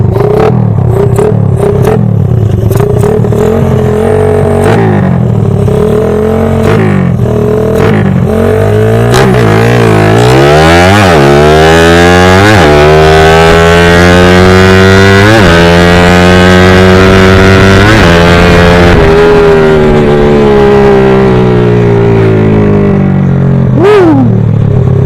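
A Suzuki Raider 150 motorcycle fitted with a BRT racing coil revs hard on a test run, its engine note climbing and falling in repeated loud throttle blips and sweeps, close by and continuous throughout.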